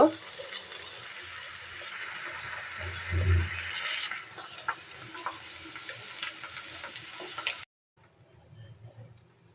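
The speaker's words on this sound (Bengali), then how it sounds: "পয়সার মতো কাটা আলুগুলা এখন আমি এই তেলে ভেজে নেব" Coin-sliced potatoes frying in hot oil, a steady bright crackling sizzle with a few clinks and a thump, cutting off abruptly into near silence near the end.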